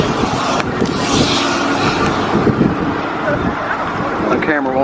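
A modified 6th-generation Camaro fitted with an LT2 intake runs at an autocross event, a steady loud engine roar mixed with heavy wind buffeting on the microphone.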